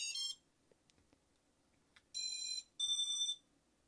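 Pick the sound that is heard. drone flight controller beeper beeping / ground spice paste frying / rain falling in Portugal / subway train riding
drone flight controller beeper beeping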